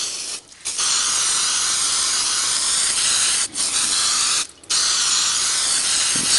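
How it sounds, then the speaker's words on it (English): Steady hissing aerosol spray applied to leaves for a leaf composite plate, several long bursts broken by brief pauses, loud and close. "spray this up"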